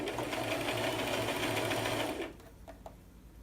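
A sewing machine stitches around a sleeve cap with a steady, close, whirring motor hum. The hum stops partway through, leaving a few faint clicks.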